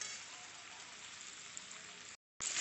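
Spice masala and potatoes stir-fry in a pan with a continuous close sizzling hiss that cuts out briefly and then resumes.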